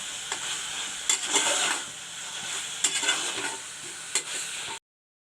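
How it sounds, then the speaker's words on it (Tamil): A frying mixture with coriander and mint being stirred in a pan, a continuous close sizzle broken by several scraping strokes of a spoon, ending abruptly. "இதையும் சேர்த்து கிளறி விட்டுக்குங்க."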